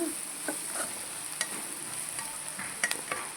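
A cluster bean fry being stirred in a pan, a soft continuous sizzle under repeated light scrapes and taps of a spatula, close and steady.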